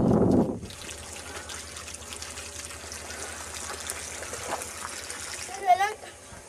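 Water runs steadily from an open tap, a continuous close rushing trickle that lasts the whole stretch, with a brief louder splash near the end and faint voices in the background.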